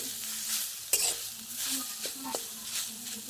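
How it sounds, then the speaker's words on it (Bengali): Grated coconut fries dry in a wok on a gas flame while a spoon stirs it: steady sizzling with repeated scraping strokes, close and alone, with one sharp clink of the utensil. "বাটি কুড়ানো নারকেল দিয়ে দিচ্ছি কড়াইতে।"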